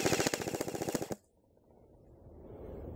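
A Tokyo Marui M4 airsoft gun fires a rapid full-auto burst of about a dozen sharp, evenly spaced clicking shots, loud and close, then stops abruptly and leaves a faint low hum.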